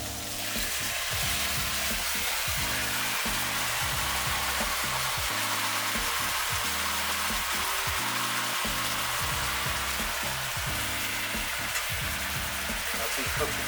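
Food frying in a pan, a loud, dense sizzle held close and steady throughout, with a faint rhythmic low thumping underneath and no voices.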